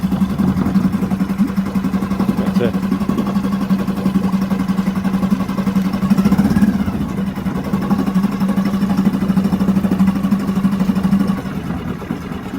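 A Mercury outboard boat engine runs in a test tank, a steady, close, loud idling drone with a low hum that holds for the whole stretch, easing slightly near the end.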